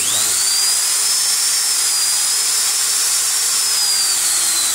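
A Makita 9500 angle grinder runs after its gear-head bearings were replaced, holding one loud, steady high-pitched whine from start to finish with no voices.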